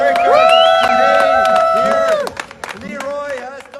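An audience celebrates a Guinness World Record attempt with loud clapping mixed with high whoops and cheering voices, a close crowd roar that drops away partway through and then picks back up more raggedly.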